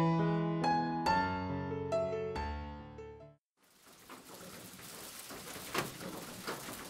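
Rain falls steadily as a background story effect, a soft, even hiss. It enters after a short pause that follows a plucked, melodic musical phrase.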